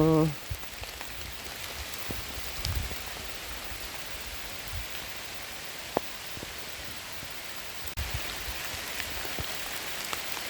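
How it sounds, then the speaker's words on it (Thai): Rain pours steadily over a wild bamboo forest where bamboo shoots are being gathered, an even, dense hiss of drops on leaves and surfaces with a few sharp close taps and a brief sound at the very start. "ฝนตกครับ"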